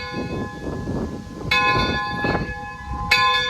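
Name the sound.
bell being rung by pulling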